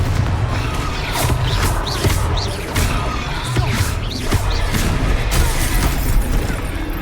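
A fiery explosion spell cast during combat in Hogwarts Legacy, set among loud, dense game sound: booming blasts and crashing hits layered over a constant roar, with whooshing effects running throughout.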